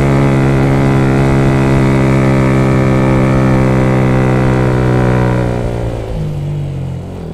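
A manual motorcycle engine shifted into first gear climbs uphill, revving loud and steady close by with a strong harmonic drone, then eases and dips slightly near the end.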